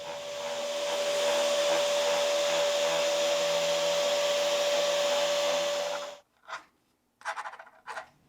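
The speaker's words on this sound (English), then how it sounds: "Then a bit of sanding." A steady whirring power sander runs for several seconds on the wooden body of an aeolian harp, then stops, followed by a few brief scratchy rubbing strokes.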